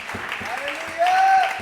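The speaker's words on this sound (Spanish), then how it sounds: "¿Por qué no le da un aplauso al Señor?" Church congregation claps in praise during a Spanish-language service, a quick rhythmic beat of hands under a held musical or vocal tone, close and moderately loud.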